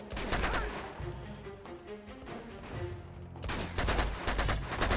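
Rapid bursts of gunfire in the Uncharted 2: Among Thieves video game, clustered volleys at the start and end with scattered shots between, loud and close with no voices.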